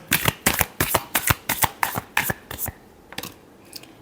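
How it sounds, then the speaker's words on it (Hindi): Tarot cards shuffled by hand in a rapid series of crisp, riffling bursts that slow and thin out toward the end, close and clear with no talking. "last shuffle"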